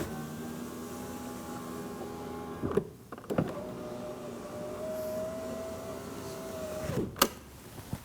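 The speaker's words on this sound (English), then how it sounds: "Test the window, make sure it goes up and down smoothly." Power window regulator in a Kia Optima driving the glass up and down, a steady whining motor hum with two runs, each ending in a clunk as the window stops, then a final thud.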